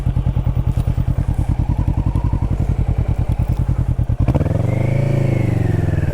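Kawasaki Vulcan S motorcycle put in gear and pulling away: a steady low rhythmic engine putter for about four seconds, then a clunk and a rising rev as it accelerates off, loud and close.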